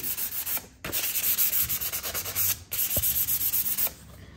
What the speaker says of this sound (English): Just the merest touch of the paper and it just sands.